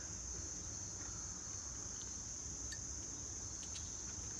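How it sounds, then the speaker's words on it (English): Cicadas drone in a steady high-pitched buzz outdoors under a cloud-covered sky, constant and moderately distant with faint background ambience and no talking. "The cicadas."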